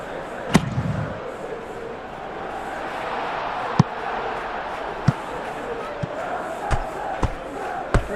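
A simulated stadium crowd from a football video game, a Champions League match of Real Madrid against Manchester City, roars in a broad steady wash, with scattered sharp thumps and bangs rising above it.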